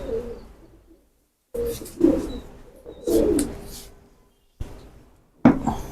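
Cooing from old-breed pigeons kept for pigeon flying, several repeated low throaty coos in bursts with short pauses, close and moderately loud, with no talk.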